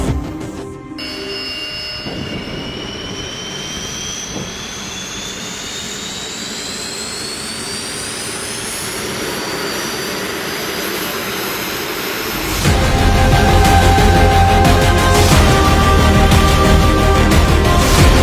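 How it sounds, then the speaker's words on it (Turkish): A Bayraktar Kizilelma jet engine spools up, a rising turbine whine climbing steadily in pitch for several seconds before the engine catches into a louder, broadband roar, close and continuous. "Motor çalıştırma için serbest."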